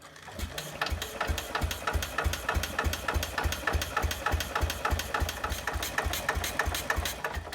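A 1968 Case 155 tractor engine runs steadily near the microphone at wide-open throttle, its rapid, even firing pulses forming a continuous mechanical chug with a sewing-machine-like rhythm and no talk.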